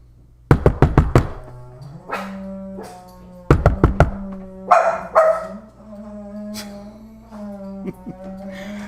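A few sharp knocks on a door, then a second burst of knocking, each answered by loud, excited dog barking nearby.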